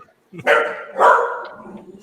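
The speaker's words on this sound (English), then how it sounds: "Oh, and now my dog's barking too." A dog gives two loud, close barks about half a second apart, the second trailing into a whine, with faint background noise.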